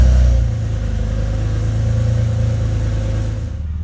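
BMW E46 car engine runs after start-up with the secondary air pump relocated, a loud, close, steady mechanical hum with a deep low drone and no talking.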